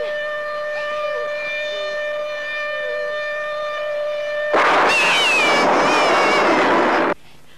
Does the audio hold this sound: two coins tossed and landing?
no